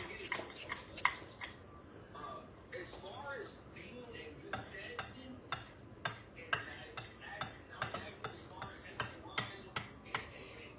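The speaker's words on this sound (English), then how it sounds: "with the fork, it's bringing it in like this. And you're chopping it and chopping it" A fork chops food in a steady series of sharp, clicking taps against a plate, close and fairly loud over a low background rumble, with a busier cluster of clicks at the start.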